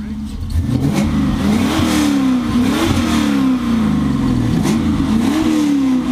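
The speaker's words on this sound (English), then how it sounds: "Let's hear that V8 sound." V8 engine swapped into a Volvo 240 wagon revs repeatedly, loud and close, with rising and falling throttle blips in a steady rhythm under a rough idle.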